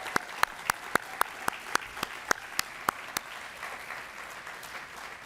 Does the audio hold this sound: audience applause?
yes